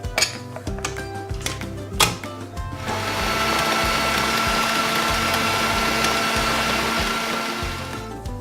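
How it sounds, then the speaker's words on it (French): Stand mixer with a bowl of giant cookie dough running steadily: a broadband motor whir that settles into a continuous, loud drone after some clattering knocks in the first seconds, with no voices. "vous mettez tous les ingrédients dans le bol de votre robot"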